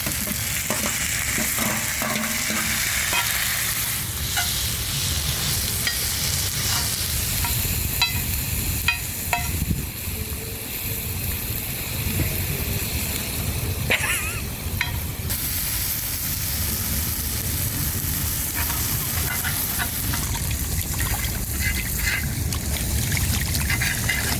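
Masala for anchovy fry is stirred in a hot pan, giving a continuous loud sizzle with frequent scraping strokes and a brief trickling pour.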